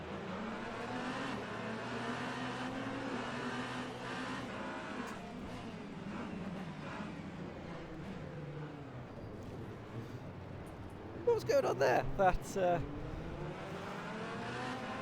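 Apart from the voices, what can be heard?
race cars at Spa in video game Le Mans Ultimate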